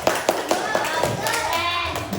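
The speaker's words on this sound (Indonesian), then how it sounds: "Beri tepuk tangan dulu untuk kelompok 1." Schoolchildren in a classroom clap for group 1, a few separate claps at first and then a denser patter, with children's voices over it.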